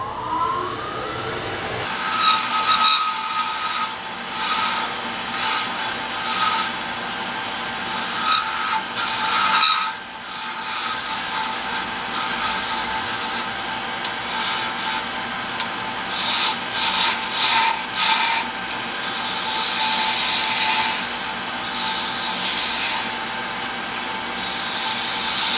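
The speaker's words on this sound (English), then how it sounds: "I'm going to turn with a little bit more care, and I'm going to take curving cuts" Wood turning on a lathe with curving cuts: a steady, loud scraping rasp of the tool against spinning wood runs almost continuously, with brief dips in intensity and a constant motor hum underneath, no voices.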